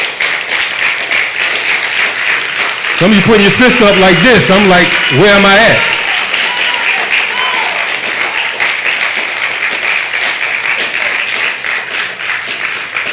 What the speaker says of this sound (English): Clap your goddamn hands if you're ready for revolution.